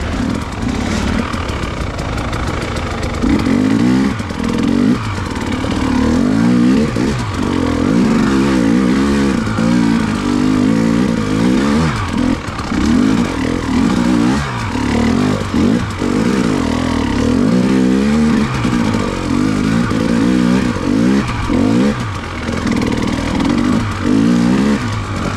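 A 650 motorcycle engine revving on a ridgeline ride, loud and close, holding a steady drone that rises and falls in repeated throttle swells for most of the stretch after a brief quieter start.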